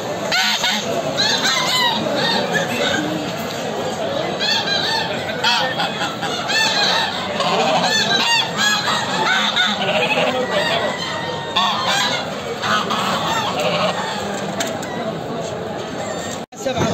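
Geese honk loudly and continuously, with chickens and other fowl clucking in a crowded Iraqi animal market, while people talk over the dense bird noise.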